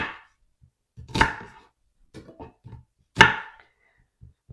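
Knife chopping red onion, carrots and mushrooms on a board: a few sharp, separate cuts spaced about two seconds apart, close and fairly loud, with quiet handling sounds between them and no speech.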